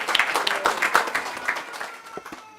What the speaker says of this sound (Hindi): एक बार ताली बजा के इनका धन्यवाद।